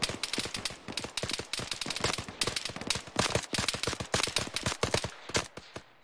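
Gunfire in the video game ARMA 3, rapid bursts of close, loud automatic shots crackling almost continuously for several seconds, with no talking.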